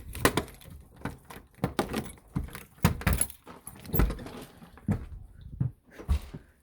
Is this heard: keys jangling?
yes